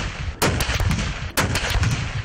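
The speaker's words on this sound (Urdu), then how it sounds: "صوبائی دارالحکومت لاہور میں دن کا آغاز 21 توپوں کی سلامی سے کیا گیا۔" Booming cannon shots of a 21-gun salute on Independence Day in Lahore, two heavy blasts about a second apart, each with a rumbling tail over an outdoor background.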